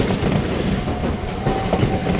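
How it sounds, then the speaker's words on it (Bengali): A train passes along a railway line close by, a continuous loud rumble with rhythmic clickety-clack of the wheels throughout, no voices. "ওই দেখো ট্রেনটা গেল"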